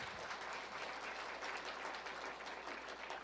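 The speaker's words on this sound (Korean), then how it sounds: "박수!" Church congregation applauding during a sermon, a dense, steady wash of clapping that continues evenly without a break, heard at a distance and fairly quiet.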